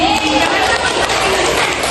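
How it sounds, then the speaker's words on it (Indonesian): A classroom applauds a student named Adi during a microteaching lesson, a dense and loud wash of clapping that fills the short moment with steady texture, with a voice faintly mixed in. "Oke, tepuk tangan untuk Adi."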